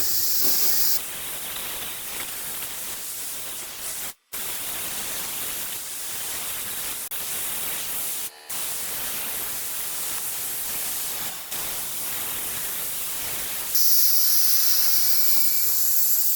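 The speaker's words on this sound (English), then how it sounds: "now it's just a matter of hit the start button, and now we'll cut this right-hand panel out" Torch cutting a steel sign panel gives a loud continuous hiss lasting over fifteen seconds, broken by a couple of brief cutouts, with a sharper brighter hiss near the end.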